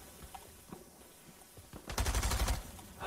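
Gunfire in a battle royale video game erupts as a short, dense burst of rapid shots after a stretch of quieter game sounds.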